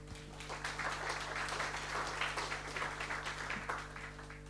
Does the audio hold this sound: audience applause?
yes